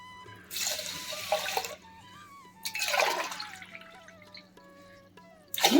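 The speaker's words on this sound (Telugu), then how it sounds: "రెండు గ్లాసుల నీళ్ళు పోసాను." Water is poured from a glass into a pressure cooker holding washed rice and toor dal, in two or three splashing bursts with rising pitch as the vessel fills, close and fairly loud.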